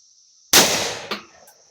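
A single loud, close blast from a modified turkey shotgun cracks out of near silence and decays quickly, followed by a short sharp echo or clank.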